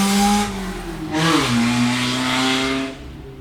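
A passing car accelerates with a rising engine note that sweeps upward and then holds steady for a few seconds before fading. No one speaks.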